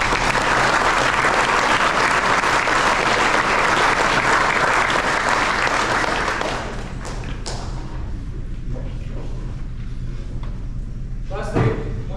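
Audience applause at a baseball team's end-of-season awards ceremony, a loud sustained burst of clapping that fades after about seven seconds into scattered claps, thumps and faint room noise.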